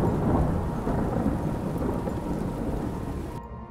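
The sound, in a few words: heavy rain and thunder sound effect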